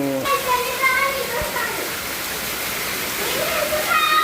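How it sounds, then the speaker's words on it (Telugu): Heavy rain pours down in a dense, continuous roar during a downpour in Padmanagar Phase 2, Hyderabad, with children's voices and chatter mixed in. "చూడండి ఇప్పుడు పడే వర్షానికి అయితే చూడండి వాటర్ ఫాల్ లాగా వస్తున్నాయి మా పైనుండి"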